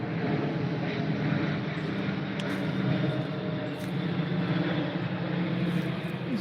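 Airplanes passing overhead in an open prairie setting produce a continuous, loud, broad engine roar that holds steady across the whole stretch with no talking.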